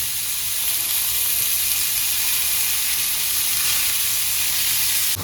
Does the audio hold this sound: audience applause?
no